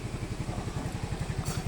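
Yamaha Fazzio scooter fitted with an anti-theft alarm, its engine running at idle with a rapid, even putter and a mechanical clatter, close by, with no talk.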